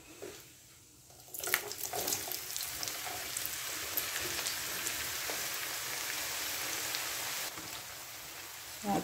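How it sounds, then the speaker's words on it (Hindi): Carrots drop into hot oil with fenugreek seeds for homemade carrot and garlic pickle, setting off a loud, steady frying sizzle that holds for several seconds after a short quiet start. "अब मैं इसमें ये गाजरें डाल दूँगी"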